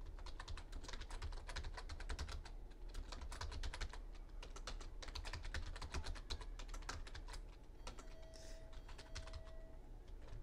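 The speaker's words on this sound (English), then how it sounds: "Okay, so I finished through typing it." Rapid clattering keystrokes on a computer keyboard run steadily for about eight seconds, fairly close, then thin out into sparse taps near the end while a faint tone hums in the background; no one speaks.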